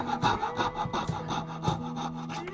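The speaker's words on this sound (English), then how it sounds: "the first thing I need to do is to cut the opening with my little jigsaw here" A small hand jigsaw cuts an opening in a cigar box clamped in a vise, the rasping wooden strokes repeating in a quick, uneven back-and-forth rhythm, close and fairly loud with no talk.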